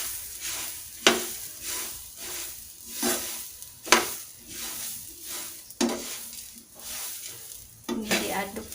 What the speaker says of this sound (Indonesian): Nah, dan tadi berasnya ini akan kita sangrai ya.